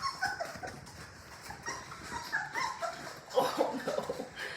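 Four-week-old Labrador Retriever puppies whimper and yip in soft, scattered bursts that grow busier toward the end, with faint background noise and no talk.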